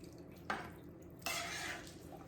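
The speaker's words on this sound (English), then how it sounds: "Then I'm gonna add in the corn." Frozen corn poured into a soup pot of beef broth, a short clatter followed by a longer rushing, rattling spill of kernels into the pot, close and alone.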